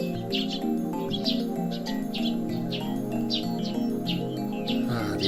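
Birds chirp in repeated short bursts outside, steady across the clip, sitting over a busy bed of music with sustained tonal notes.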